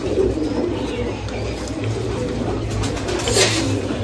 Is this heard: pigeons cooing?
yes